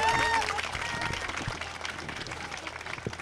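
Audience applause at a political campaign rally in Iksan, steady and dense clapping from a crowd for about three seconds, with a voice briefly heard at the start.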